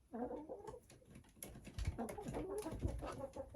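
Chickens and a rooster in a backyard coop at roosting time, giving soft alarmed clucks and squawks as a hen is lifted onto the roost, with a few brief thumps and rustles nearby.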